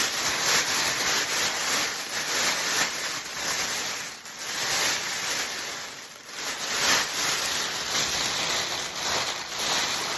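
Continuous crinkly rustling of a large plastic bag, steady and close, with brief dips as the bag is handled.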